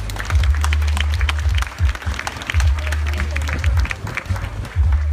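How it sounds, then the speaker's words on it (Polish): Loud applause from a crowd fills the room at a sports team presentation, dense steady clapping that goes on throughout. "Wielkie brawa dla niego."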